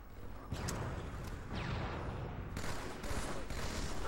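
Rapid bursts of BXR rifle gunfire in a Halo 2 LAN tournament match, dense overlapping shots with sharp transients throughout, loud and continuous with game ambience.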